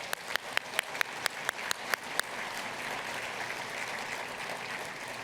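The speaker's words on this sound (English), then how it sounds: "let's do a big round of applause right now" A gala awards audience applauds: several sharp, distinct claps ring out at first, then the sound settles into a steady, moderately distant wash of clapping.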